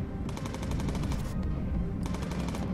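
Rapid bursts of machine gun fire from the gunners of a B-17 Flying Fortress bomber in the Bomber Crew video game, sustained and dense, with a brief gap partway through before firing resumes.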